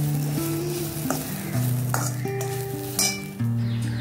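Turmeric and chilli powder sauté in a pan for a Goan Saraswat raw mango and udad methi curry, a soft continuous sizzle with brief stirring clinks, while a melodic tune plays underneath.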